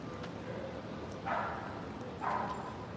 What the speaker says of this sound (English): some angry dogs.